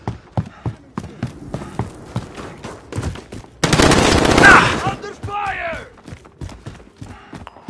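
Automatic weapon fire in a Call of Duty Modern Warfare multiplayer match, a loud sustained burst of rapid shots lasting about a second, amid game callouts, footsteps and other action sounds.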